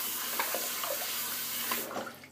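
Tap water runs into a sink for rinsing during a shave, a steady close hiss with faint splashes before it is shut off and cuts out near the end.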